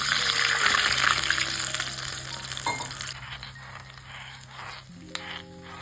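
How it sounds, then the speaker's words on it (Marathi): Water being poured into a fasting-style dhokla batter made with curd and buttermilk, a steady gushing pour that fills the first half and then thins to quieter stirring and clinks. "आता थोडंसं पाणी घालून घेते"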